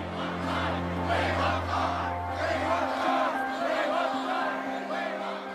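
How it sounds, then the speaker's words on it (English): Large crowds outside a royal wedding chanting for a glimpse of the bride: a distant massed roar of voices rising and falling in rhythmic cheers, over a low steady hum. "Outside, the crowds had started to chant for a glimpse of the bride"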